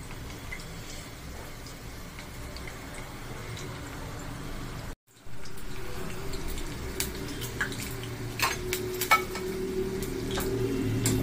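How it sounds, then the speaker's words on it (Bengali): Onion fritters (peyaji) frying in oil in a pan: a gentle, continuous sizzle with small pops, broken by a brief gap, then slightly louder bubbling with occasional light ladle taps. "এরকম ঘুরিয়ে ঘুরিয়ে চতুর্দিকে আমি সুন্দর করে ভেজে নেব।"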